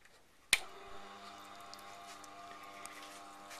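A Tormek T7 water-cooled sharpening machine starts with a sharp click, then its stone wheel runs with a steady low motor hum and faint wet trickling, close and moderately quiet.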